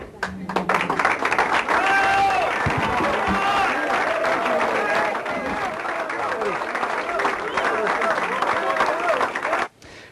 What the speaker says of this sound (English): Clearly a loud and joyous crowd there at the Italian-American Club